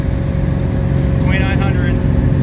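A 700-plus hp Chevy Nova running at about 3,600 RPM around 70 mph, with a loud, steady engine and road drone filling the cabin and a brief shift into a Gear Vendors overdrive.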